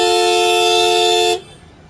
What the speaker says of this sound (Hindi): तो ये रहा आफ्टर मार्केट लाउडेस्ट हॉर्न।